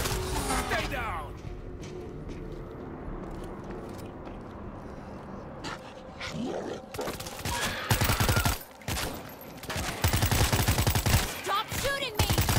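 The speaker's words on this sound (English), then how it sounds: "Stop shooting me!" Gunfire rattles through a World War Z video game scene set in Marseille, with bursts of rapid automatic shots and single cracks arriving in clusters, mixed with shouted voices and other game sounds.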